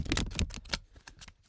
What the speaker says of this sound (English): now I am going to shuffle the deck